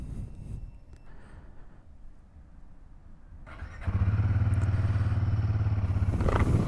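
A Royal Enfield Himalayan 450 motorcycle engine cranks and starts, then settles into a loud, steady idle with an even pulsing beat.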